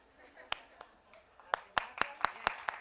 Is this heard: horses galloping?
no